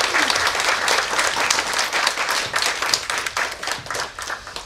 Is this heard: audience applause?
yes